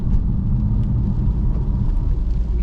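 BMW F82 M4 driving on wet roads in the rain, a steady low road and engine rumble heard from inside the car, with no talk.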